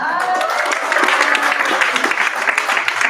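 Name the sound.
audience applause for the Mechanics Institute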